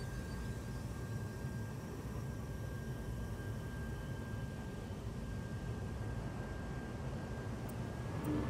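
A spaceship lifts off in Star Citizen, a steady broadband engine roar with a thin constant whine running through it, holding level and swelling slightly at the end, with no voices.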